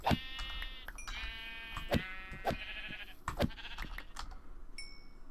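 Sheep in Minecraft bleat several times in short, wavering calls, some near and some farther off, spread over a steady game background with a few clicks.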